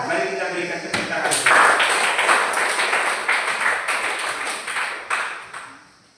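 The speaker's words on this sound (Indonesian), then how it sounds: "Mari kita berikan tepuk tangan." Classroom applause from a group of students: several seconds of dense, steady clapping that stays close and fairly loud, then thins out and fades near the end.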